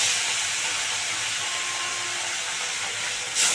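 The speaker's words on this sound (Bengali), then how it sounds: "এবারে মাছ দুটো দুটো করে ভেজে নেবো।" Pomfret fish pieces frying two at a time in hot mustard oil make a steady, even hiss that stays close and fairly constant, with no talking.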